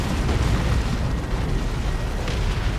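An orbital bombardment in the strategy game Dawn of War 2 erupts in a dense, rumbling wash of explosions and booms that holds loud and continuous throughout, with no voices.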